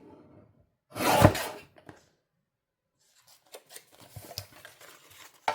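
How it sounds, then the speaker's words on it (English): Scissors cut down the center of paper for a Christmas tuxedo pocket craft with sheet music tags, one brief loud snipping burst near the start followed by scattered soft handling rustles and taps. "So I cut down the center."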